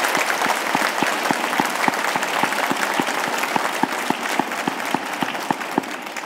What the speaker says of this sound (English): give those members that are stepping into the realms of management a round of applause for their hard work